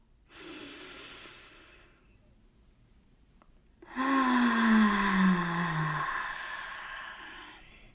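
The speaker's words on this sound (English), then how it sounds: "take 3 deep breaths right now" Slow deep breathing up close: a long airy inhale, a pause, then a louder, drawn-out exhale with a breathy, sigh-like tone.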